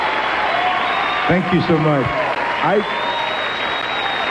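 Steady, loud audience applause fills a concert hall at a country music tribute, continuous and dense throughout, with someone briefly speaking over it near the middle.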